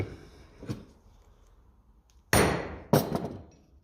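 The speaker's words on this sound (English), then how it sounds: "I'm not going crazy with the hammer now, in fairness." A hammer taps on a 1950 Lucas D3A4 distributor for a Ferguson while a new bearing is fitted: one faint knock, then two sharp, close metallic strikes in slow succession.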